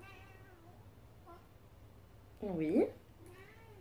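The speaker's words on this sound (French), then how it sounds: "si vous entendez miauler derrière moi, c'est normal" A house cat meows once in the room behind a person speaking quietly, the short rising cry standing out clearly above a low steady hum.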